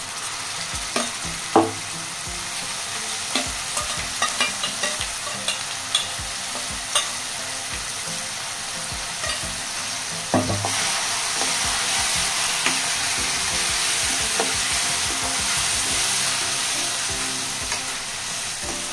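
Blended gongura leaf paste for Andhra pachadi sizzles steadily in a hot pan, with scraping stirring strokes and occasional sharp taps of the spoon against the pan, loud and close throughout with no talk.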